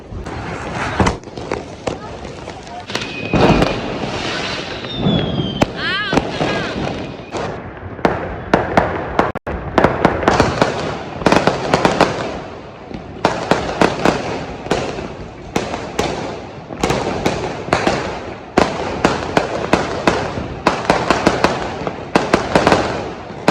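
Firecrackers bursting for Diwali, rapid cracks and pops going off close by in dense volleys, with people talking throughout.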